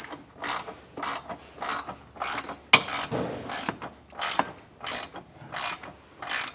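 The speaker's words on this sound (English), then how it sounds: "I'll have to get a wrench and fully snug these down." A ratchet wrench snugs down the bolts of a TowSmart Class III trailer hitch on a 2015 Dodge Durango, giving repeated bursts of quick, close clicking in a steady rhythm, with no talking.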